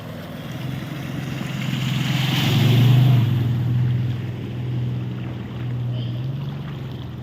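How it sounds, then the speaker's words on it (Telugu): Floodwater after heavy rain rushes down a residential colony lane in Khammam like a canal, a steady loud churning wash with a low rumbling undertone that swells and eases throughout. "కాలువ చెరువు కాలువ వచ్చినట్టు వస్తుంది చూడండి"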